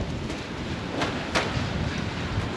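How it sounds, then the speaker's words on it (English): Outdoor wind buffets the microphone in low rumbling gusts, with a couple of brief sharper surges over a continuous blustery background. "It's not like constantly windy, but it's gusty"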